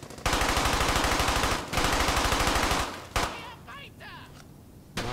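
Thompson submachine gun in the World War II shooter Brothers in Arms: Hell's Highway firing loud, rapid full-auto bursts, two long strings close up, followed by a single sharp shot and distant crackling battle noise.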